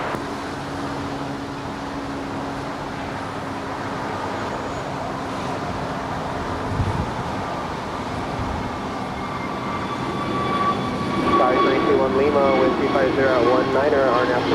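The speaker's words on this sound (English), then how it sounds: "this is Alaska Airlines 296 heading up to Seattle. It's a 4-year-old A321neo." Alaska Airlines Airbus A321neo, four years old, bound for Seattle from LAX, its engines rising in a steady roar over a continuous background wash, growing louder toward the end with a whining tone.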